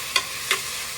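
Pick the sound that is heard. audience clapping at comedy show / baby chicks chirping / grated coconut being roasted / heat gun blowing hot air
grated coconut being roasted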